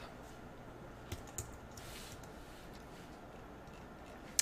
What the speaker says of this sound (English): And I'll just type a hint.